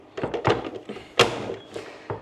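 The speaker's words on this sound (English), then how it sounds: "you just plunk them in, go bang, and then they're chopped" A plunge-style vegetable chopper slams down on whole mushrooms, giving a few dull thunks and clacks in an irregular sequence, close and fairly loud, with small rattles between strikes.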